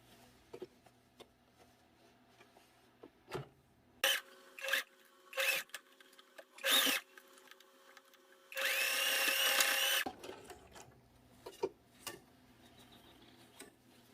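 A sewing machine stitches plus-size bikini bottom fabric, running in several short bursts and then one longer continuous stretch, fairly quiet with soft handling noises between runs.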